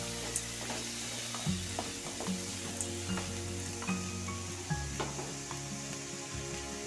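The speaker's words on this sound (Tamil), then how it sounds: "3 பச்சை மிளகா பொடியாக கட் பண்ணி வச்சுருக்கேன், அதையும் சேர்த்துக்கலாம். சேர்த்துட்டு லேசாக வதங்கினா போதும்" Finely chopped green chillies sautéing in a pan give a steady, close frying sizzle with light stirring scrapes, over a constant low background hum.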